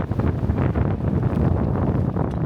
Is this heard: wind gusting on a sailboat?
yes